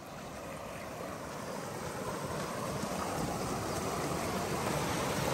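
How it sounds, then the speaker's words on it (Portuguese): A strong current rushes through a flooded stream on a farm, a steady broadband roar of turbulent water that stays loud and continuous throughout, with no voices. "Só que tá muito forte a correnteza."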